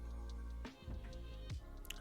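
Water Pulse attack in a Pokemon Go PVP battle: wet squelching splash effects and drips over a steady droning game music bed, with a few soft plops in succession.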